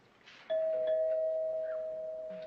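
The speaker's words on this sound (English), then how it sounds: "That's the doorbell." A doorbell chimes once with a steady ringing tone that sustains and slowly fades, heard alone in a quiet room.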